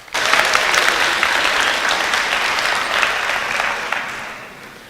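A graduation ceremony audience applauds a student speaker taking the stage, breaking into loud, dense clapping almost at once and keeping it steady for several seconds before it thins toward the end.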